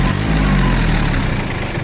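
A four-wheel-drive mini tractor's engine runs loud and close, a steady droning rumble with no break throughout.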